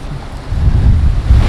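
Strong wind gusts roar in a heavy, low rumble during a severe windstorm that is bringing down trees and blowing debris, buffeting the microphone loudly and continuously.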